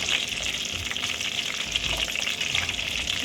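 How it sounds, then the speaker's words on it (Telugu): Mustard seeds fry in oil in a pan for a mango ginger pickle, a dense continuous sizzle with fine crackling, close and steady, with no talk. "ఇది కొంచెం వేగిన తర్వాత అప్పుడు ఆవాలు వేసుకుంటే ఆవాలు మాడకుండా ఉంటాయి."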